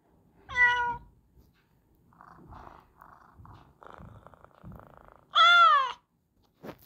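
Two bright synthetic cat meows from a pressed cat-paw search button, one near the start and another near the end, with faint tapping and quiet clicks in between.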